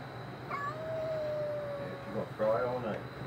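A caged feral cat cries in long, drawn-out wails, one steady call followed by a rising, wavering cry near the end, set against steady outdoor background noise.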